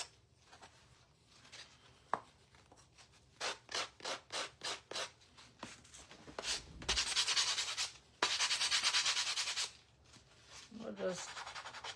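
Sanding a wooden star craft piece with 80 grit sandpaper: a run of quick, rhythmic rubbing strokes, then longer, louder continuous scrubbing passes, heard close up.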